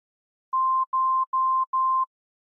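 A melody of pure electronic sine tones generated in the Desmos graphing calculator: four short, evenly spaced beeps at one pitch, each followed by a brief gap, then silence.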